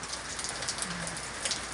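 Rain drips and patters from a nipa palm-thatch roof in a steady, close, fairly soft spatter, with occasional brighter drop impacts standing out and no voices.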